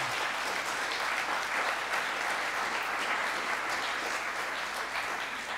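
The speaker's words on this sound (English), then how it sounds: "I think we should give Simon an applause now" Sustained audience applause fills a conference paper session, a steady dense patter of many hands clapping without pause from start to finish, fairly loud and even, with no speech over it.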